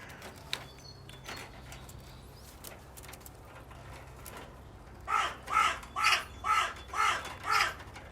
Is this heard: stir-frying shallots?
no